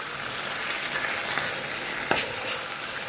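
A vegetable chachchari with sweet potato and potato cooks in a nonstick pan, giving a soft continuous sizzle with a couple of brief clanks from stirring near the end.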